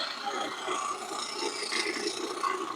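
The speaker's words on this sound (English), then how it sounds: "That's the sound of rough grit doing what it's supposed to be doing." A lapidary machine grinds petrified wood with rough grit, a steady whirring rasp, moderately loud and continuous, with a faint rattle running through it.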